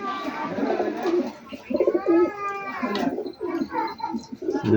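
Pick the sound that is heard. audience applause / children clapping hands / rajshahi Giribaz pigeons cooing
rajshahi Giribaz pigeons cooing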